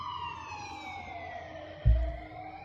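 Police sirens wail steadily at moderate distance, their tone sliding downward as a vehicle approaches and passes, with a brief low thump near the end.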